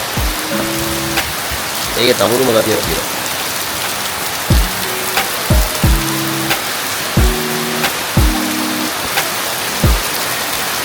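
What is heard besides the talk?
rain falling at Umandawa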